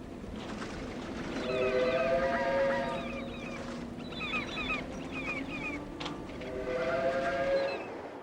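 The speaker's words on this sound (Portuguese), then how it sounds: "Este trem de carga transporta uma expedição de combustível irradiado, proveniente de uma usina nuclear." A freight train carrying containers of spent nuclear fuel rolls along with a low rumble, broken by repeated high, wavering squeals and whistle-like tones that swell and fade in bursts.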